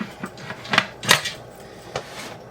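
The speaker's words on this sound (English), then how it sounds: "Alright, so I'm going to put the lid on" A metal lid is set onto a pressure canner holding jars of ravioli: a few sharp metallic clanks and clatters, close by, with quiet pauses between them and no talking.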